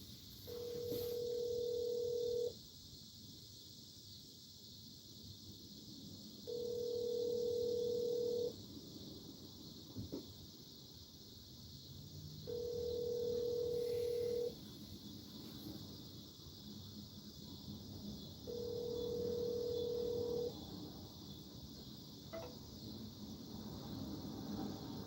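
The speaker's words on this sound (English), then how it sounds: "We could call Rich." Telephone signal tone heard while a call is being placed, sounding as four steady, evenly spaced beeps about two seconds long with quiet gaps between, clear over faint background hiss and no talk.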